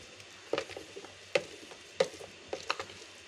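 Mustard cake fertilizer solution being stirred, with several distinct sloshing, knocking strokes spaced irregularly over a quiet background, moderately close and without talk.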